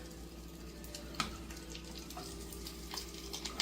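Egg foo young sizzles quietly in a pan with a steady crackle and occasional small pops, no talking.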